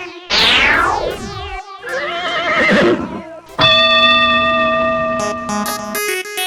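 A cartoon horse at the start of a horse race gives a long, loud whinny that falls in pitch, followed by more wavering neighs and then buzzing, tonal comic sound effects.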